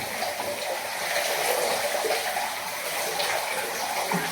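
Water splashes and sloshes steadily in a large bathtub while a bear hide is washed, a close continuous gushing wash with small surges.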